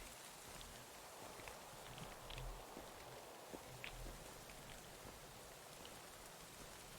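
Steady rain falls in a video game stroll through Fushimi Inari at night, a soft continuous hiss with faint drips and a few footsteps, fairly quiet and with no speech.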